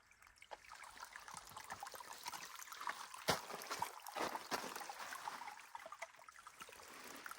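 Water trickles and splashes at a cold, clear desert water source in the Grand Canyon while bottles are filled. The sound is close and steady with irregular gurgles and a louder splash midway.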